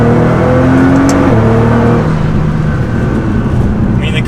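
A tuned Nissan GT-R pulls hard in third gear, a loud, sustained engine roar with rising tones early on, then a dense, steady rush of power heard from the cabin.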